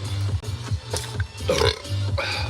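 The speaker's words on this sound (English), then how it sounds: "Burp." A single loud, low, rumbling burp rolls out in a few gravelly pulses, close to the microphone, with no other sounds around it.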